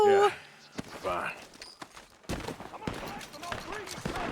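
Scattered video-game gunfire from a barn crackles in short, sharp bursts, some close and some farther off, mixed with footsteps and people talking over it.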